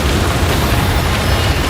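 Car bomb explosion in a film scene, a loud dense roaring blast filling the whole moment with sustained rumbling noise, no speech.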